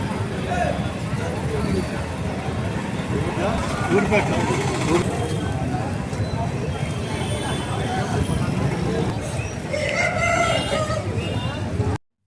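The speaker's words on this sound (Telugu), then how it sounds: "చూడండి, నెంబర్ 1 ఉంది పుంజు." Roosters and hens at a country chicken market for native birds, with repeated loud crowing and clucking close by over a constant hubbub of crowd chatter throughout.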